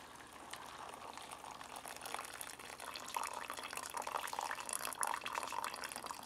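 Roughly 12 ounces of hot water, fresh off the stove, poured into a Good To-Go Thai Curry dehydrated meal pouch, making a steady close splashing and gurgling stream that grows slightly louder as the pouch fills.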